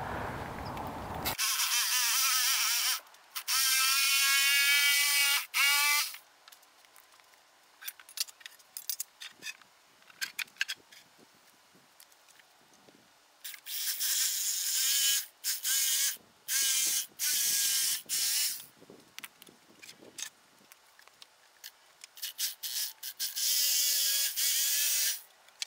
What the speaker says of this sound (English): the DeWalt blade cut through the rubber with ease